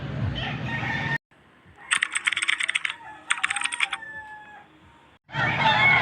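Chickens and roosters at an early-morning chicken market in Angeles, Pampanga, clucking and squawking in two loud, choppy bursts with a possible crow, framed by louder mixed market noise before and after.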